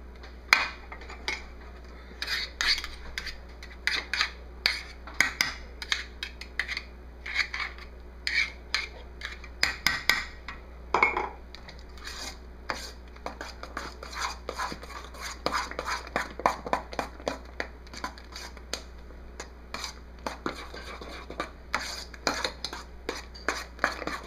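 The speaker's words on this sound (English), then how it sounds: "I'm going to do the rest of the stirring by hand" Cheesecake batter stirred by hand for a New York style cheesecake, with a utensil scraping and clinking against the bowl in quick, irregular strokes, fairly close and moderate in level, with no talking.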